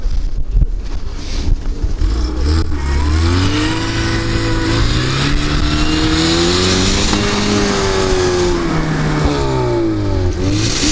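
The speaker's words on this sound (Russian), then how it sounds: "На мост сел, колеса буксуют, все на этом." A Renault Duster sunk onto its axle on a small snowy rise, engine revving hard and rising and falling in pitch as the wheels spin, loud and continuous with heavy wind buffeting and no talk.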